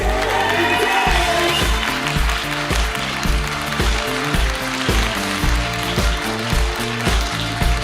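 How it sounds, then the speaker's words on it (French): Audience applause at a comedy sketch show fills the room over rhythmic, thumping music, a dense wash of clapping from a crowd. "Je vous demande d'applaudir Fanny Ruet."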